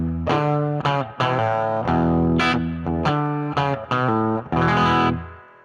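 Electric guitar on a country-rock pedalboard, played with a classic Fender clean tone: loud, ringing chords and notes in a series of strong attacks with sustained tails and short gaps, heard alone without talk.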